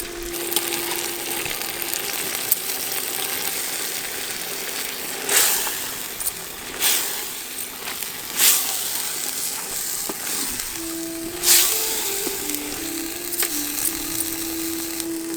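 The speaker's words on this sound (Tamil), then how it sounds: "இப்போ கொள்ளு பருப்பை சேர்த்துடலாம்." Horse gram dal fries in a pan after salt has gone in, giving a steady close sizzle with scattered sharp clicks and scrapes of stirring.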